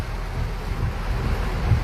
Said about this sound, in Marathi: ते बघा कसा पाऊस पडतोय